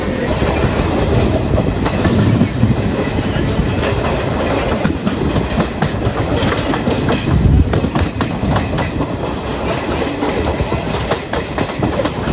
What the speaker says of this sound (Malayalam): തിരൂർ നമ്മുടെ വണ്ടി എടുത്തു